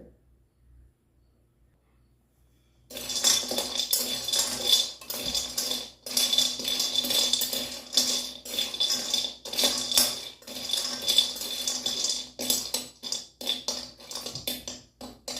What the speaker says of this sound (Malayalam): ആദ്യം തന്നെ മഞ്ഞളൊന്ന് വറുത്തെടുക്കാം